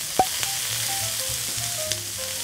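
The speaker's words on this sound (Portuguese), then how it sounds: "Agora eu vou acrescentar uma cebola picada. Meio pimentão picado. Agora eu vou mexer tudo." Chopped onion and half a chopped bell pepper sauté in a pan with garlic, giving a steady close sizzle with a few light scrapes and clicks of stirring.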